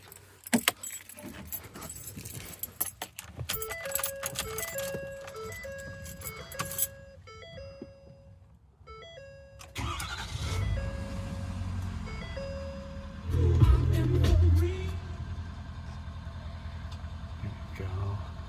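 A 2015 Ford F-350 Lariat 4x4 crew cab with the 6.7 Power Stroke diesel cranks and catches about ten seconds in, settling into a loud, steady, rough idle with a brief surge; chiming and key jingling come first, with no talk.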